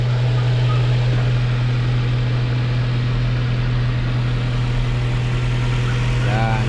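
A Mazda 3 engine idles steadily with a strong low hum and a constant whir, close and unbroken; a brief rattle comes near the end.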